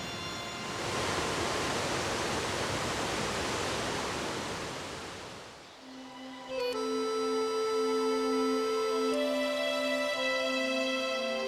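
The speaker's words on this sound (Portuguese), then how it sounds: "uma impressionante queda d'água bem no limite da área do parque" The Cachoeira 7 de Setembro waterfall roars as a loud steady wash of falling water, then fades out and gives way to sustained musical tones.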